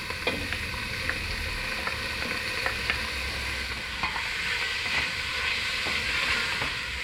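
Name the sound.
chicken frying in a pan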